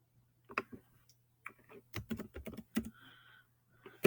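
Someone types on a computer keyboard in short, irregular bursts of quiet clicks over a faint steady hum, with a dense flurry of keystrokes in the middle.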